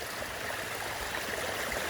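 A small stream from a spring beside a hiking trail in Shenandoah National Park runs in a steady, soft trickle and gurgle, close by and unbroken, with no voices.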